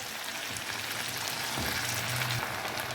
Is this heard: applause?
no